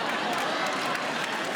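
Comedy club audience applauding at a stand-up show, a steady wash of clapping from a crowd, loud and continuous throughout with a little chatter mixed in.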